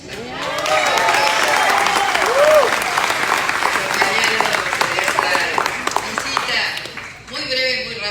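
Audience applause at a public political event in Los Angeles, California, sustained through the clip with cheering voices and shouts mixed in, easing briefly near the end before rising again.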